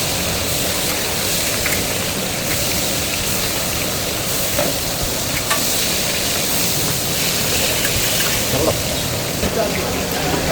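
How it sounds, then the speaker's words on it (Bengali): Hilsa fish and eggplant fry in plenty of mustard oil at a Mawa ghat eatery. A loud, constant sizzle with crackles runs throughout, mixed with busy background noise. "সরিষার তেল পুরোটা ঢেলে দিল আর এখন বেগুন আর ইলিশ মাছগুলোকে সুন্দর করে ভেজে নেবে"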